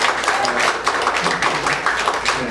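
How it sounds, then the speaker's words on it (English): Congregation clapping hands in praise during a church service, a dense steady burst of applause-like claps lasting throughout, fairly loud with some voices mixed in. "Give the Lord a hand clap of praise."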